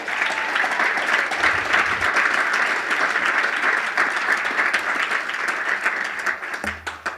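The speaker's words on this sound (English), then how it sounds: "I think that deserves a round of applause" An audience applauds at a political talk on building a Democratic coalition, a steady dense clapping that holds for several seconds and tapers slightly at the end, no voices over it.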